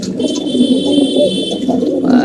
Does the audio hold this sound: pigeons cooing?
yes